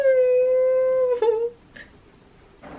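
A puppy gives a long, steady, high whining cry that breaks off after about a second and a half, followed by a couple of faint brief yips and soft rustling nearby.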